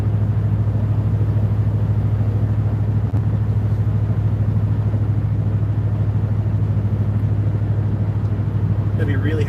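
An old Dodge cruises down the road with a constant deep engine drone and road rumble that stays loud and steady throughout, heard from inside the vehicle.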